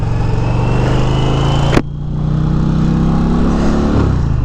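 A 2022 Indian Pursuit Dark Horse motorcycle under way, its engine rumbling loud and steady with a brief sharp break partway through before the low drone carries on, shifting slightly in pitch near the end.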